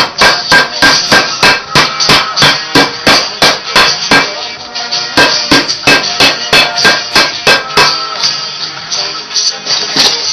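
Rawhide mallet striking in a fast, steady series of sharp knocks, about two per second, loud and close with no talking.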